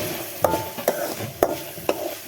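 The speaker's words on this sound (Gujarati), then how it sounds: "તેલમાં બધું શેકાવા દેવાનું" A ladle stirs and scrapes through food frying in hot oil in a pan, four crisp metallic knocks spaced evenly over a soft continuous sizzle, close and alone.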